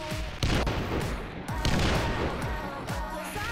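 Repeated gunfire in Final Fantasy XIV during The Stone Vigil (Hard) dungeon fight, a dense run of shots and impacts with several sharper bursts over a busy game mix.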